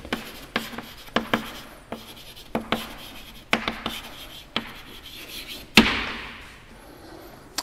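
Chalk tapping and scraping on a board as an equation is written during a continuum mechanics lecture on viscous fluid flow, with sharp irregular strokes and clicks, one louder knock near the end, and no talking.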